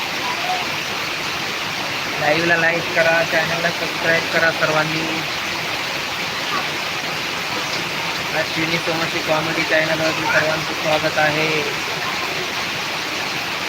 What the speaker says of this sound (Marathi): अतिवृष्टी काय आहे ते पहा तुम्ही